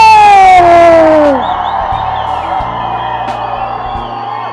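A film event crowd lets out a loud burst of whooping and cheering, with one voice rising to a long drawn-out yell before it tails off into a scattered murmur and a few distant shouts.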